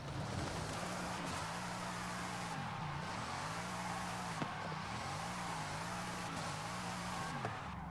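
A Bugatti Divo drifting in Forza Horizon 5, its engine droning steadily while the pitch dips and rises through repeated slides, with a continuous tire squeal, heard at a moderate level without any talk.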